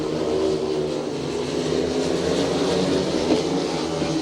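Speedway motorcycles racing at a Monarchs versus Glasgow meeting, a continuous roar of engines sweeping around the track at mid distance, loud and sustained, with no commentary audible.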